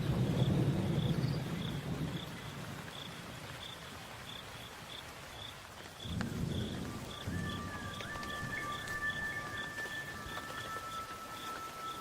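Low rumbles of thunder roll in twice over a steady hiss of summer rain in the Okavango, with regular insect chirps and a faint high tone in the background.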